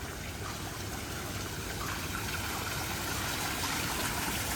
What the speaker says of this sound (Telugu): ఈ వాటర్ సౌండ్స్తోని మొత్తం అసలు ఎంత థెరప్యూటిక్గా ఉందో అది